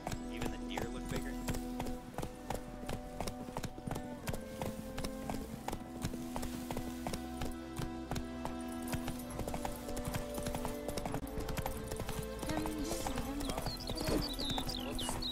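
Horse hooves clip-clop steadily as a rider travels through a forest in the video game The Witcher 3: Wild Hunt, next-gen update, a continuous galloping rhythm under game music and ambience while a voice talks over it.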